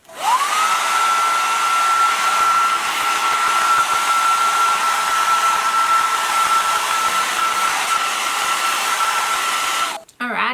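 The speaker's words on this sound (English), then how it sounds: "So I'm just gonna use this to blow dry my hair." A GHD travel hairdryer blows continuously on hair, a loud steady whine with rushing air that holds for about ten seconds before cutting off abruptly near the end.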